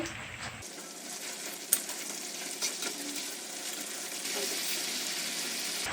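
Chicken pieces for a Jamaican-style adobo fry in a pot with a loud, steady sizzle that swells as they are flipped, marked by a single sharp clink of a utensil.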